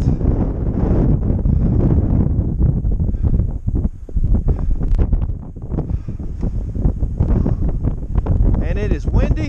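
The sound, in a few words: wind on a mountain top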